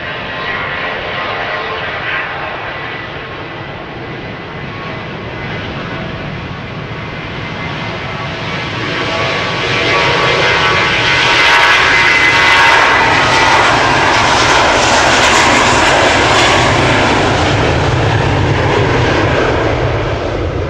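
A jet airliner departs Amsterdam Schiphol in an unfamiliar livery, its engine roar building from a steady rumble to a louder, fuller blast about halfway through and staying strong and close, with no voices.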